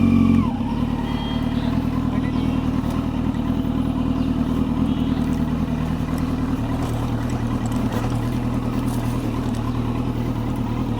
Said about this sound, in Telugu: super బైక్తో off roading